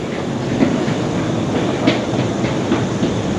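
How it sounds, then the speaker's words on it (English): A cable train rolls steadily along rails, a continuous rumble with soft rhythmic clicks from the wheels, close and moderately loud, with no voices. "It's a cable train, and a real smooth ride."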